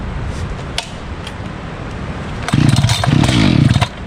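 Echo CS590 chainsaw being pull-started, with rope pull rattles followed by a loud, close engine catching and sputtering for about a second and a half before dying, and no talk.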